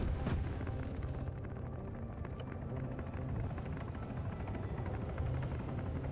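A Pawnee light helicopter in the Arma 3 military game, its rotor and engine roaring loud and steady at close range throughout, with a deep rumbling drone underneath.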